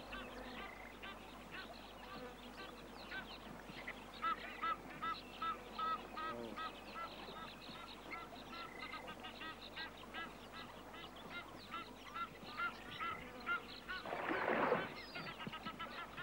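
An Egyptian goose honks at a waterhole in the Namibian wild, giving a series of moderate, spaced calls. They end in a louder harsh burst, with faint ambient sound around them.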